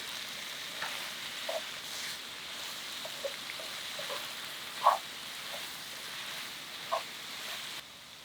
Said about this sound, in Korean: 조금만 볶다 보면 숙주나물이 숨이 죽는다.